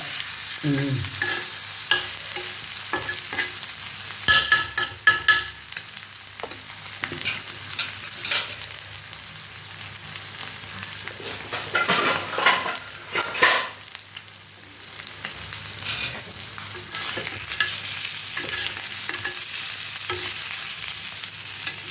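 Egg and onion fry together in a pan with a continuous close sizzle. Repeated scraping and stirring strokes run through the long stretch of cooking, with no voices.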